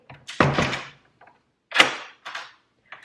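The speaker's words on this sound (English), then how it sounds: "I'm gonna close the door." Indoors, a door is pushed shut with a sharp wooden thunk, followed by a few softer knocks and rattles spaced over the next couple of seconds.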